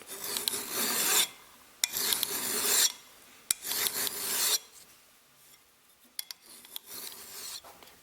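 A metal file rasping across an old flea-market axe head, four long harsh strokes in a steady rhythm with brief pauses, close and loud, followed by a couple of sharp taps and a fainter fifth stroke.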